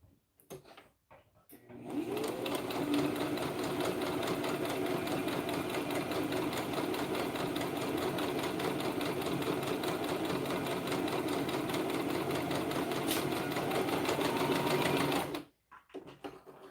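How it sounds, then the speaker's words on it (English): A sewing machine runs steadily for about thirteen seconds, a close, even motor whir that starts and stops abruptly, alone without talk. "Sewing machines are nice because you just press on the pedal and they go."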